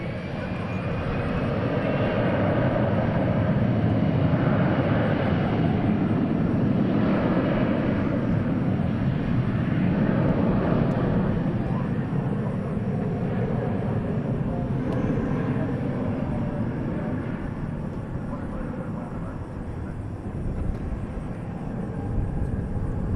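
An Embraer 175 jet takes off at an airport, its engines producing a loud, sustained broadband roar that holds steady for the full stretch and fades slightly near the end.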